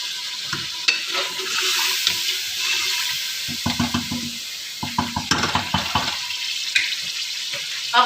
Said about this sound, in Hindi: अब जो मैंने आलू काटे थे ये मैं इसमें डाल के बस 1 मिनट ही इसमें चम्मच चलाऊँगी। बस 1 मिनट आलू को घी में भूनना है।